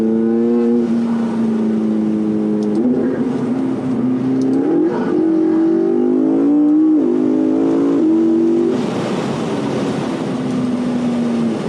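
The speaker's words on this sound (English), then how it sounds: "you can hear their turbo noses really well" A tuned turbocharged 2012 McLaren MP4-12C engine revs loudly and steadily, its pitch climbing through several gear shifts with a prominent turbo whine, close and continuous with no talking.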